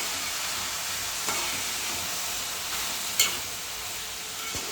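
Bottle gourd curry with salt and turmeric stirred in a pan, a steady close sizzle with occasional spoon scrapes and one sharper clink, no voices.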